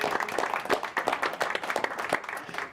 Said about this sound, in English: I want to give another round of applause for Tim Burton, who is our guest tonight.